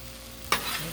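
Chili mac frying on a Blackstone griddle, a quiet steady sizzle broken halfway by a sharp scrape and swish of stirring, then the sizzle continues close by.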